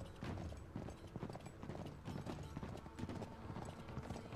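Horse hooves clip-clop in a steady, quick galloping rhythm during a riding sequence in the video game Uncharted 3, moderately faint and continuous.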